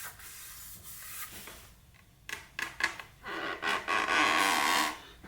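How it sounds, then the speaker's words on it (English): A dry, gritty rubbing sound of a fingertip dragged back and forth over the rough painted surface of a plastic model aircraft, in several short strokes close up with no talking. "that's my finger rubbing up and down it"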